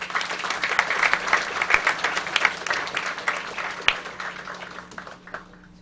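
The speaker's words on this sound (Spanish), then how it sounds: "Recibamos un aplauso a nuestro querido rector." Audience at a university international relations event applauding the rector, a brisk burst of many hands clapping that gradually fades over several seconds.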